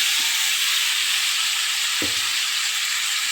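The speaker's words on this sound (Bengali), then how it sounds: "এখন আমি এর ভিতরে ফুলকপি ভাজা এবং আলু ভাজাটা দিয়ে দেব" A steady, bright sizzle of fried potato and cauliflower added to masala in hot oil, with a soft clunk of a spoon against the pan partway through.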